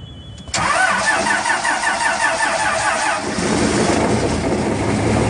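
A city transit bus engine is cranked on a POWERALL 12V 600 amp jump starter. A loud rapid starter whir begins abruptly, the engine catches about three seconds later, and it settles into a rough, steady, close idle.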